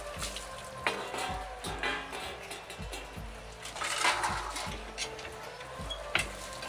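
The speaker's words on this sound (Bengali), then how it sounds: "বাসনগুলো আমি এখন মেজে নিচ্ছি, এক এক করে বাসনগুলো এখন ধুয়ে নিচ্ছি আমি।" Dishes washed one by one at an outdoor tap on a rainy day, with steady running and splashing water, repeated knocks and clatters of metal utensils, and a constant wash of rain-like hiss throughout.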